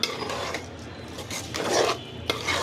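Pulao rice being stirred in a pan with leftover spice masala after hilsa fish was cooked, a steady scraping and rustling with soft clinks of the spoon against the pot, no talking.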